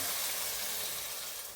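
Water poured onto flour fried in butter sizzles in a pan, a steady, bright hissing fry that continues evenly and tapers slightly at the end.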